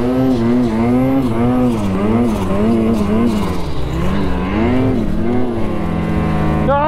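A Lynx snowmobile engine labours and bogs in handlebar-deep snow, its loud droning note wavering up and down continuously as the revs rise and sag, close to the microphone with no speech.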